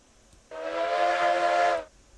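Steam locomotive whistle from RailRoads Online, a single sustained, loud hissing blast lasting over a second with a bright tonal core, starting and stopping abruptly against quiet background.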